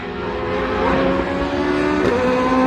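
Historic sportscar race cars lap Road Atlanta, a loud continuous engine drone with shifting tonal whine as cars pass and rev, steady and dense with no voices.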